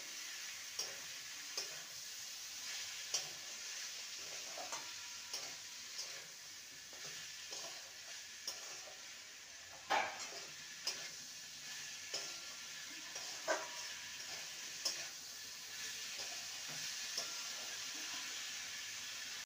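Long beans and potatoes fry with spices in a pan, giving a soft, constant sizzle broken by scattered scrapes and taps as they are stirred, with no talking.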